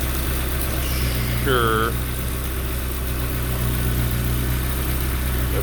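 A 1997 Mazda Miata engine with a freshly installed MK turbo kit idles steadily on first startup, a low constant hum with a brief voice and a short whine partway through.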